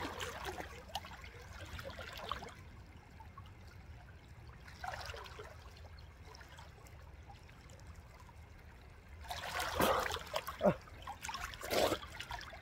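Water splashes in bursts in a cold countryside stream as a person dunks in, with gentle trickling between the louder splashes near the end.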